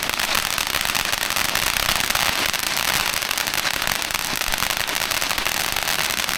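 Small firecrackers bursting in a dense, continuous crackle during Chinese New Year celebrations, loud and close with no pause throughout.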